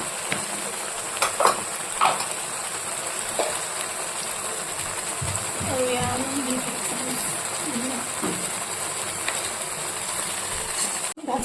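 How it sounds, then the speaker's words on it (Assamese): Continuous sizzling of onion and peanut paste frying in a pan, steady and close, with occasional stirring scrapes and a few soft voice sounds underneath. "সেইখিনি অকণমান ভালকৈ ভাজি ল'ম।"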